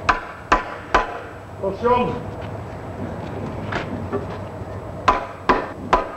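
A hammer drives wooden ladder rungs into the wooden ladder rail in traditional farm craftwork, with several sharp, loud wooden blows in bursts at the start and end and someone talking between them.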